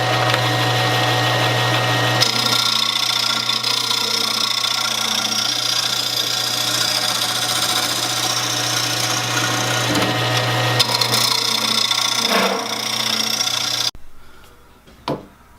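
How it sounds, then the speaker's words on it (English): A wood lathe turns a bowl while a scraper smooths the inner wall, giving a steady, loud machine whir with rough scraping texture that runs continuously before cutting off near the end. "So I'll go through with the scraper, same action, straight on, smooth it out, finish off the wall width"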